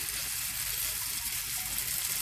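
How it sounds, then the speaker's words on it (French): Brik pastry sheets for beef-and-cheese bourek frying in hot oil, a steady dense sizzle that stays even and close throughout, with no voices. "maintenant, on va pouvoir passer à la cuisson de nos briques. Alors, hop, on a de l'huile bien chaude"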